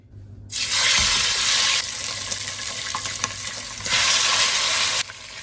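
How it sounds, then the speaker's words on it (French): Chicken sizzles loudly in hot sunflower oil, a steady bright crackling hiss that swells and eases as pieces are moved around the pan. "L'huile est chaude, je vais griller le poulet."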